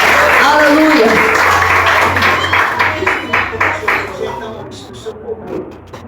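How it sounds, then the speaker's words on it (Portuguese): Congregation clapping together at a New Year's Eve evangelical church service, a dense burst of applause that thins out toward the end, mixed with sustained music and voices in the background. "Que as palmas louvem o nome do Senhor nessa noite."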